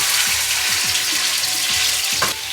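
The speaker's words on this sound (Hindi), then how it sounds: "अब हम इसमें चिकन डाल रहे हैं। ठीक है, तेल गर्म हो गया, ये आहिस्ता से डालेंगे ज़रा।" Chicken pieces frying in hot oil in a karahi, a loud continuous sizzle with rhythmic stirring and scraping, no talk.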